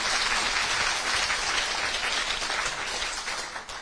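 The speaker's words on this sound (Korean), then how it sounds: "그래서 네, 박수가 나오겠습니다." Audience applause at a public talk and reader meetup in Busan, a dense steady clapping from a crowd that stays loud and fades slightly at the end.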